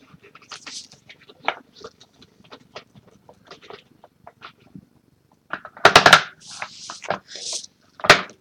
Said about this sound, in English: He's putting batteries away.